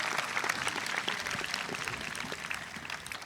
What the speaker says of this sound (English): Good to clap for that.